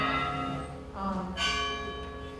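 Bells recorded in Portugal in winter ring in a sustained, resonant peal, with overlapping tones struck one after another and a long shimmering decay, loud and close, without voices.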